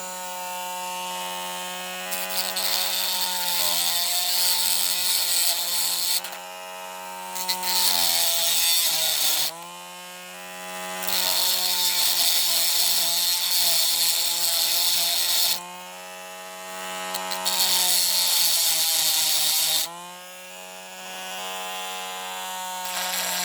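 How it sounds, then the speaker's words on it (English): Rotary drill whirring at high speed while stripping down a No 17 Londoner or No 74 Daimler model bus, running in several sustained bursts with brief pauses, loud and close. "I might just try my rotary drill"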